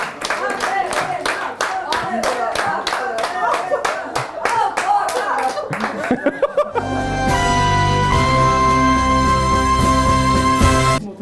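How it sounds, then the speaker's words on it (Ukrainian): An audience at a televised intellectual quiz show claps in dense, rhythmic applause for several seconds, which then gives way to loud music. "Оплески Катерині Дудці, авторці цього запитання"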